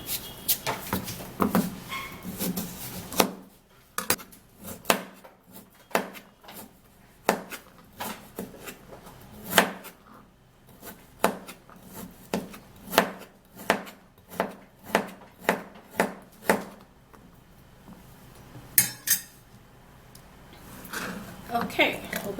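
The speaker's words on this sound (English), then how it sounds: "we're going to chop the carrots" Knife chopping carrots on a cutting board in a home kitchen, a run of sharp, fairly close taps in irregular bursts with short pauses, a few louder strikes standing out.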